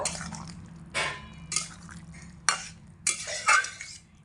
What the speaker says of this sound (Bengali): এবার হালকা একটু নাড়াচাড়া করে দেব